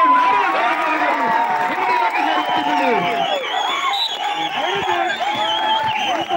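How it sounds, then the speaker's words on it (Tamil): Dense crowd roar and cheering at a kabaddi final between YMCA Unnamalaikadai and Ramnad in the Maldives, loud and sustained throughout with shouts and whoops rising above the din and a commentator's voice running over it. "ஆரவாரம் சூடு பிடிக்கிறது."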